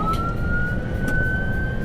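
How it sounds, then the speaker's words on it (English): An emergency vehicle siren is switched on, a loud steady tone rising slightly in pitch, close and continuous over engine rumble. "Swing this corner if you want to flip the sirens on"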